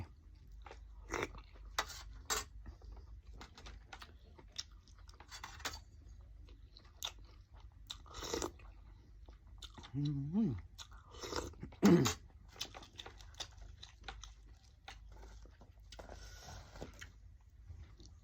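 Someone eating a spicy mushroom curry, with soft crunching and chewing bites scattered irregularly, close and fairly quiet, and a few louder crunches near the end.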